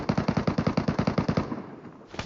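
Rapid automatic FAMAS rifle fire in the mobile shooter PUBG Metro Royale, a steady burst of about fifteen close, loud shots over roughly a second and a half that stops abruptly, followed by a faint quiet tail.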